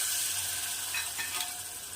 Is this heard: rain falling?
no